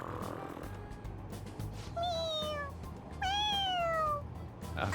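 A cat in Persona 5 Royal gives two clear meows a second apart, the second longer and louder, each a rising then falling whine over a low background hum.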